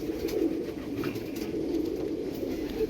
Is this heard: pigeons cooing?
yes